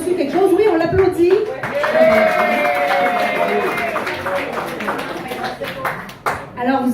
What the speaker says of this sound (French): Oui, on l'applaudit.